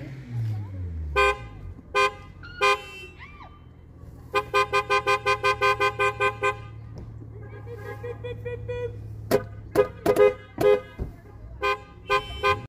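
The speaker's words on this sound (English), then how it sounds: "What, did you ask him to honk the horn?" A car horn honks in short bursts: a few single toots, then a long rapid string of beeps, then scattered louder blasts, with people talking close by in between.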